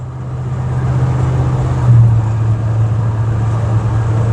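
Chevrolet C-10 truck cruising at highway speed, a steady low engine drone with road rumble from inside the cab, holding even throughout with a slight swell partway, no talking.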